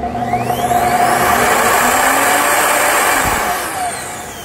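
An Evolution R255 miter saw motor runs at a steady, loud whir, holding a constant pitch for several seconds before easing off slightly near the end.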